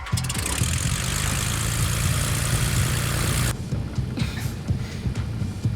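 A fighter plane powers up for takeoff in an action movie, a loud, dense roaring engine that cuts off sharply partway through, leaving a lower rumble with scattered clatter.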